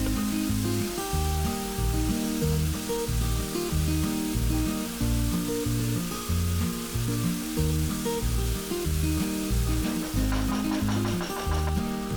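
Tomatoes, chilies and curry leaves sizzle steadily in a pan, with a continuous crackling hiss and faint stirring sounds throughout.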